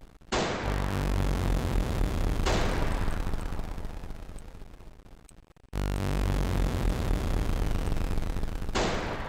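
Continuous loud gunfire from the video game Immortal Mantis, dense sustained bursts with a short break midway, then resuming at full intensity.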